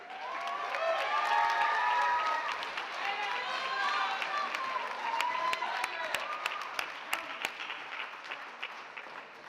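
Graduation audience at a school ceremony claps and cheers, a dense sustained wash of applause with voices mixed in, thinning toward the end into scattered sharper claps.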